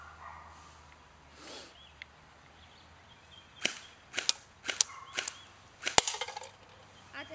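An M43181 airsoft gun fires on semi-auto outdoors at 25 feet, a handful of sharp, separate cracks spaced unevenly about half a second apart, close and clear over faint background ambience.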